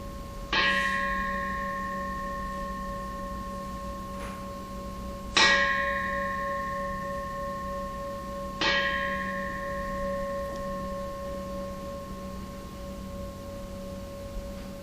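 Bells ring out to close a guided meditation, three clear resonant strikes spaced a few seconds apart, each with a long sustained ringing tone that fades slowly, alone with no talking.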